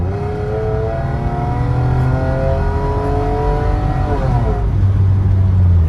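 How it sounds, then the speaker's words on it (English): The engine of a Mercedes SL600 revs hard, a loud, close roar rising in pitch across several seconds, dipping briefly, then climbing again, with no talking over it. "I guess we gotta really test the engine"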